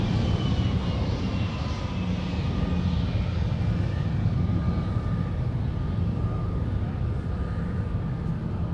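A jet airliner taking off from runway 17 at MSP airport in Minneapolis, heard as a steady, loud engine roar that holds at a constant level throughout, with no voices.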